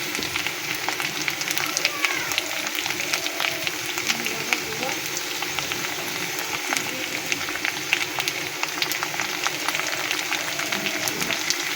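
Potatoes and onions fry in a pan with a soft, continuous sizzle and crackle, fairly quiet and close, while a voice talks over it.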